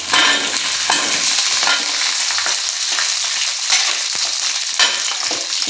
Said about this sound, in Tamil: இப்போ நம்ம சின்ன வெங்காயம் சேர்த்துக்கலாம்